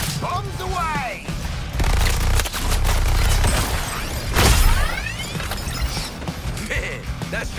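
Bombs and weapons fire explode in combat in Suicide Squad: Kill The Justice League on PS5, a dense, loud barrage of blasts, crashes and shattering debris with heavy low booms, under game voices talking.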